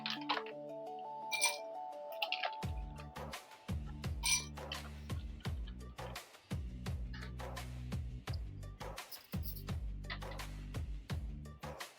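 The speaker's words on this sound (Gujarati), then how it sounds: "તો એના માટે આપણે 2 ગ્લાસ લેશું, એમાં બરફના ટુકડા એડ કરશું." Ice cubes clink and knock into two serving glasses as a chilled aam panna mango drink is prepared, a string of sharp, close clatters repeating in bursts over background music.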